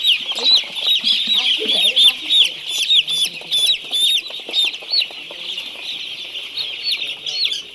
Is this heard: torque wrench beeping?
no